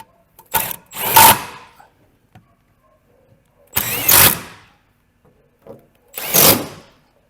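Bolts on a Gator's rear bearing are run tight in three short, loud whirring bursts, each a second or less, separated by quiet pauses.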